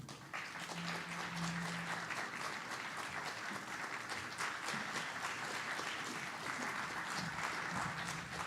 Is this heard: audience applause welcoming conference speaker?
yes